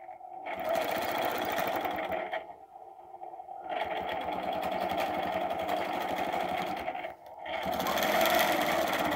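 A sewing machine stitches a design in long steady runs of rapid mechanical whirring, pausing briefly twice before starting again, close and fairly loud with no talking.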